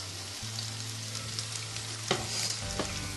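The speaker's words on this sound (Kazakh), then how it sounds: "Мінекей біздің пиязымыз біраз қуырыңқырап қалды" Onions frying in a pan make a continuous close sizzle, with a couple of sharper scraping stirs and a low steady hum underneath.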